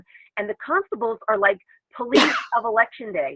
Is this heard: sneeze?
yes